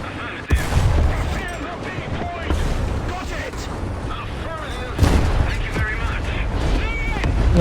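A British Tiger tank's main gun in War Thunder, two heavy booming shots several seconds apart, loud and close over rumbling engine and battle noise, with a voice talking between them.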